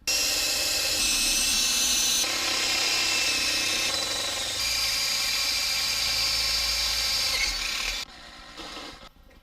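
A drill with a large bit grinds continuously for several seconds with a steady high-pitched whine, then winds down and stops near the end.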